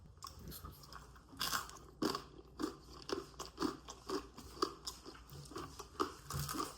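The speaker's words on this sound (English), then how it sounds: "the dough is almost like crunchy," Close, crisp crunching as someone bites and chews a hard, crusty bite of gluten-free vegan flatbread pizza crust, with steady rhythmic crunches about twice a second and no talking.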